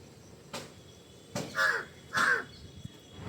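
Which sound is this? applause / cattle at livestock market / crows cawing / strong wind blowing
crows cawing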